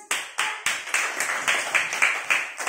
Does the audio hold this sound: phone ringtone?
no